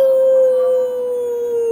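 A single long, loud, steady howl that holds one clear tone and sinks slightly in pitch toward the end, heard alone with nothing else around it.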